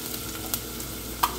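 Pigeon peas frying in a pan with onion, garlic and pepper, a soft continuous sizzle with a couple of brief stirring clicks, close and without talking.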